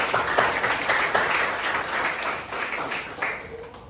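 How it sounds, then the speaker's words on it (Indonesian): A classroom of students claps for a presenting group, a steady patter of many hands at moderate volume for about four seconds, without talk. "Tepuk tangan dulu nak untuk kelompok 1."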